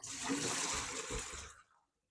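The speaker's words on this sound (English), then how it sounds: "to wash the first batch of vegetables, I'm going to turn off this and rinse it twice again" Running tap water rinsing a batch of vegetables in a kitchen, a short steady splashing flow that fades out and stops after about a second and a half.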